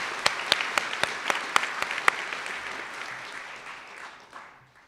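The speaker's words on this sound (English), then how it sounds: "Can we have a round of applause?" Applause from the audience at a physician assistant program graduation ceremony, with several sharp, distinct claps standing out near the start before the clapping thins and fades away.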